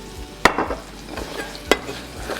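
Onions cooking in about a tablespoon of olive oil in a pan, a soft steady sizzle broken by a few sharper stirring scrapes and clinks. No one speaks.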